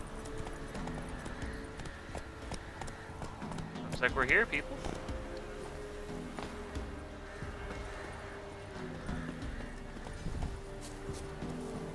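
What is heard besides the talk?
horse hooves while riding in video game The Witcher 3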